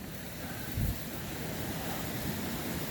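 Rushing creek water at a backcountry stream crossing on the Continental Divide Trail, a steady broadband roar close to the microphone with a brief louder surge near the start and wind noise mixed in.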